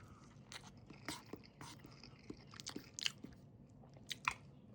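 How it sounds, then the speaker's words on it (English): Crunchy kimchi with rice and fish roe chewed up close, giving a series of irregular crisp crunches and bites, quiet but distinct, with no speech. "broken a bit by this crunch of the kimchi"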